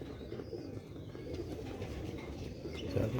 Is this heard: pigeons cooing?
yes